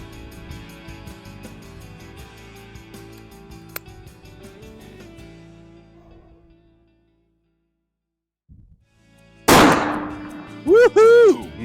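A pistol fired with a Magnum primer load during primer performance testing gives one sharp, loud close shot after a quiet stretch, followed by excited voices.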